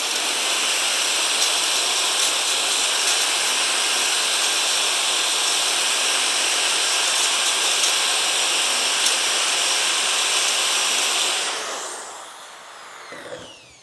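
A grinding wheel on a rotary mower and tool sharpener works the bevelled edge of a mower blade, giving a loud, steady, hissing whine for about eleven seconds before it fades and spins down to near silence.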